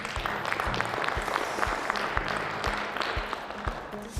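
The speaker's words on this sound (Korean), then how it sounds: "큰 박수 한번 부탁드리겠습니다" Audience applauding after a wine talk and thank-you speech, a steady patter of many hands at moderate level with a few sharper individual claps standing out, continuing without voices.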